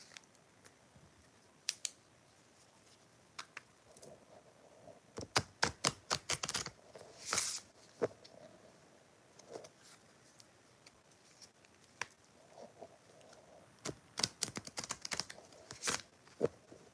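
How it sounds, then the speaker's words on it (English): Sharp riffling bursts of cards being shuffled, arriving in quick clusters separated by quieter pauses, close and fairly soft. "Let me shuffle a different way."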